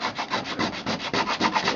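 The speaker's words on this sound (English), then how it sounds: "I'm just going to clean these up with a bit of sanding," Sandpaper rubs around bilge holes in a sailboat hull in quick, even back-and-forth strokes, about a dozen in under two seconds, close and dry, with no talk.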